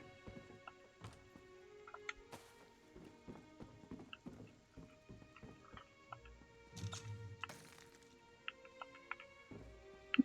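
A small dog in a video game eats, giving sparse crunchy chewing clicks and ticks spread over a soft game soundscape with faint musical tones, no talking.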